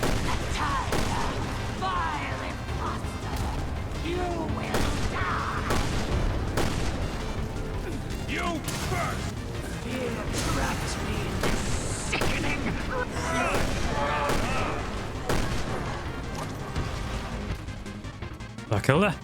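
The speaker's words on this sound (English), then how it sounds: "But luckily with Barry's hand cannon, this was a piece of cake." Barry's hand cannon in Resident Evil: Revelations 2 fires in heavy booming blasts amid dense game combat noise, with a voice talking over the top throughout.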